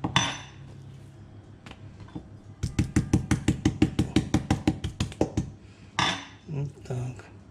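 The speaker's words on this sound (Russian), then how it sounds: "я его немножечко слегка тонким краем молоточка" A meat mallet's thin edge taps a chicken breast in a quick, even series of about twenty close, sharp knocks, with kitchen clatter before and after.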